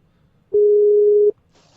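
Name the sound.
Skype client call-drop sound effect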